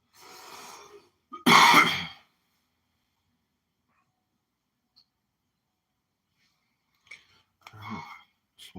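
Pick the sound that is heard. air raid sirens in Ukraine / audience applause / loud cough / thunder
loud cough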